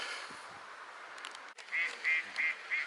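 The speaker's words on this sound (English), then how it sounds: "All the Canada geese having the party, the same spot as last year" Four loud, evenly spaced Canada goose honks ring out near the end, after a stretch of quieter outdoor park background with faint rustles.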